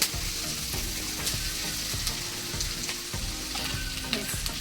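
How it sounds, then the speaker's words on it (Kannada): Onions frying in a pan for a wedding-style drumstick sambar, a dense steady sizzle with occasional stirring clinks, close and continuous with no voices. "ಒಂದು ಸ್ವಲ್ಪ ಈರುಳ್ಳಿ ನೀಟಾಗಿ ಬ್ರೌನ್ ಆಗಬೇಕು"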